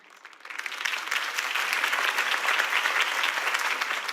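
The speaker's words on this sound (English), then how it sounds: "could have heard that applause" Crowd applause at a campaign speech in the Batman Telltale video game, clapping swelling quickly from a few hands into a dense, sustained ovation that holds steady to the end.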